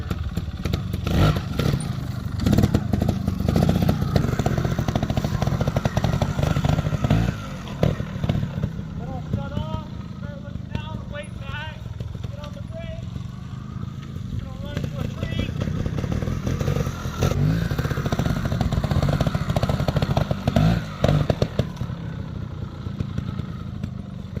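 A trials motorcycle runs in second gear across an off-camber section at a training centre, its engine note rising and falling steadily throughout with clattering and scraping, while someone talks over it at times.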